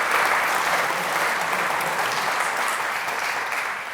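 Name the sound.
applause at community awards ceremony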